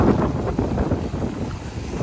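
Strong, steady wind off rough sea at Point Pedro roars and buffets the microphone, with a low rumbling rush that never lets up.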